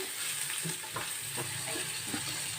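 Onions and curry leaves fry in a pan, a steady close sizzle with small crackles and the occasional stir.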